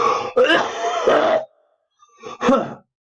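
A person with a lingering cold coughs twice, two short harsh bursts of the throat close up with a pause between them.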